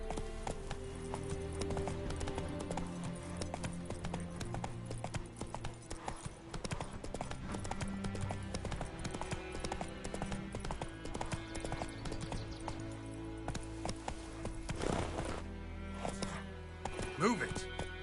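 Horse hooves clip-clop at a steady galloping rhythm in The Witcher video game, close and continuous, with game music and occasional voices over them.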